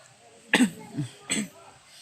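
Several short, harsh coughs sound close up: a strong double burst, then a softer one, then another burst a moment later, with a raspy throat-clearing quality.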